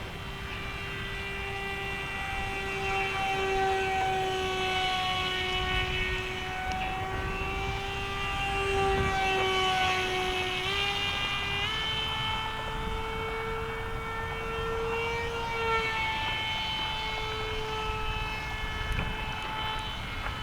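A Flite Test STEM Jet Charlie RC plane cruises on its maiden flight, its electric motor a steady whining drone that shifts pitch slightly as the throttle and distance change, holding at moderate loudness throughout with no talk.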